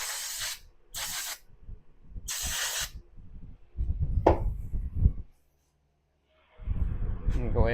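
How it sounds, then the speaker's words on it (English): Three short hissing bursts from a spray can of cleaner onto the backing felt plate of an Echo leaf blower, close and fairly loud, followed by mechanical handling sounds and someone talking. "We can go ahead and spray this backing felt plate off a little bit too"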